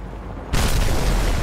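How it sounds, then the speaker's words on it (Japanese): A sudden heavy rumbling crash as a building collapses in Call of Duty: Modern Warfare 2, bursting in after a quiet half second and holding as a loud, broad roar to the end. "ビルが倒れるぞ。"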